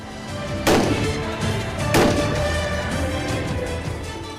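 Two loud rifle shots crack about a second apart at a shooting range during commando training, each trailing into a long booming echo over steady outdoor rumble.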